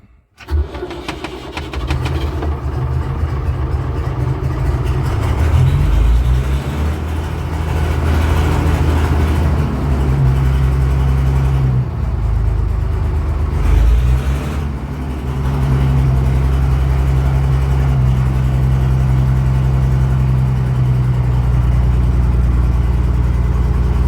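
A David Brown 1490 tractor diesel engine, suffering a fuel problem, fires up and runs loud and close, with a steady rumbling idle and rises and dips in revs along the way.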